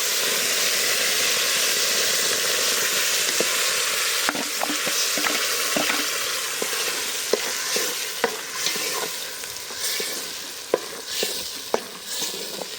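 Ground masala paste for fish curry frying in oil after a curry-leaf tempering: continuous hissing sizzle with intermittent clicks and scrapes of a spoon stirring the pan, close and fairly loud.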